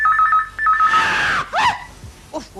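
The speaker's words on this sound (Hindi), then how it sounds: "अचानक जोर से फोन की बेल बजती है।" A loud electronic phone ring trills in short bursts, followed by a sharp rising cry.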